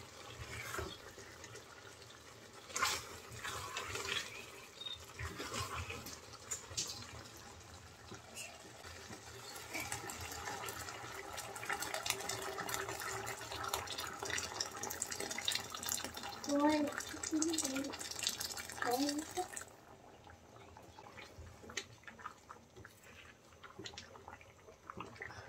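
Water poured from a vessel into a pot of chicken bones and chickpea dal, a steady splashing stream building over many seconds before stopping, followed by faint clinks and stirring.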